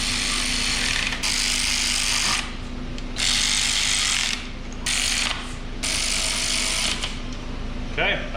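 A ratchet tightens a bolt down during transmission and accessory work, several bursts of rapid clicking spaced by short pauses, close and clear over a low steady hum, with speech around it.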